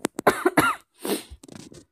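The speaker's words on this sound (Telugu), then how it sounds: "ఫుల్ దగ్గు ఉందండి" A woman coughs hard several times in quick succession, close and loud, with a short pause and then a few weaker coughs and throat clearing.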